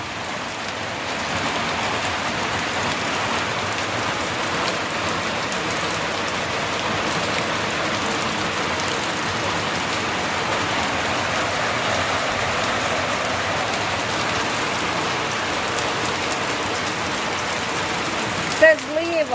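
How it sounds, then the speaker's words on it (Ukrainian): Heavy rain pours down in a village, a steady dense hiss of drops drumming on surfaces that holds constant throughout, with a brief louder knock near the end. "це не дощ, це злива."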